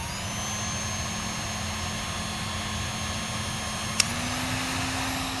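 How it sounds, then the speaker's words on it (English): A Performance Tools heat gun blows on its low fan setting, a steady close whirring hum with a faint click as the tone shifts slightly upward near the end. "we're going to be using our heat gun from Performance Tools. And we're going to go ahead and turn this on."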